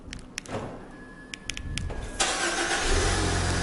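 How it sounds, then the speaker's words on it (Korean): A large SUV started remotely from its smart key: a few faint clicks, then the engine cranks and catches with a sudden rise into a steady, close idle. "이 녀석은 스마트 키로 원격 시동을 걸 수가 있어요."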